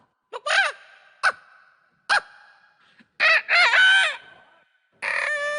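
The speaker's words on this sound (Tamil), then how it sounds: "கோழி கூவிருச்சு" Rooster crowing nearby in a series of calls, some short and sharp, others long and drawn out, separated by quiet gaps.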